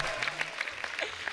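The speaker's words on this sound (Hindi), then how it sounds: "दोनों के लिए जोरदार तालियां।" Studio audience applause on The Kapil Sharma Show, dense sustained clapping from a crowd, loud and continuous for the whole short burst.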